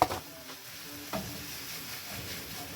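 Turkey mince frying in a pan while a spatula breaks it up, with a steady quiet sizzle and a couple of scraping knocks close by, no talking.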